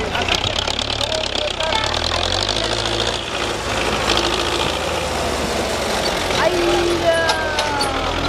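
Tractor engine idling with a steady knocking diesel rumble close by, while people talk loudly over it.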